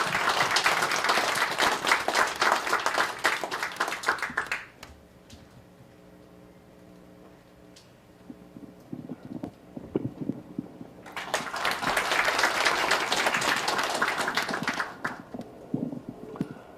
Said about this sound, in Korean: 많은 박수로 응원해 주시기 바랍니다